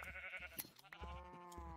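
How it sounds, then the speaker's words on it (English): Minecraft sheep give a couple of short, wavering bleats, quiet and alone, one after the other. "Breeding colorful sheep is fun."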